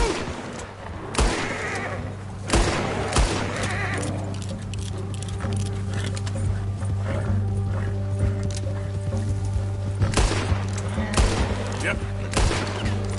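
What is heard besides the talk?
gunfire in video game Red Dead Redemption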